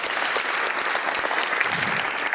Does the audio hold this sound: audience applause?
yes